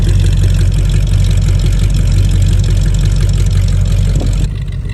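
A De Tomaso Pantera's Ford 5.8-litre Windsor V8 rumbles loudly and steadily at idle up close, a deep, even throb that cuts off abruptly near the end, with no voices.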